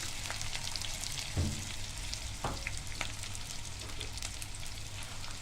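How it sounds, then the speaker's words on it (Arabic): Onion softens with spices in a frying pan, giving a continuous gentle sizzle with scattered light pops and crackles. It stays fairly quiet and steady throughout, and no one talks. "هحط هنا طاسه واحط فيها البصلايه بتاعتي، هدبلها بس مش هحمرها ولا اصفرها"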